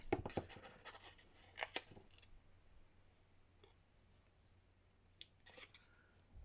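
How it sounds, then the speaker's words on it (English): Faint, quiet snips of small scissors cutting paper, a couple of clusters of short crisp cuts separated by near silence. "I need my little scissors."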